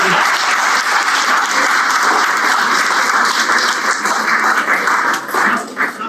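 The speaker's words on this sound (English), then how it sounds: "a good clap for his wife" Audience at a scholarly talk clapping in a steady, dense round of applause, loud and continuous throughout before thinning slightly near the end.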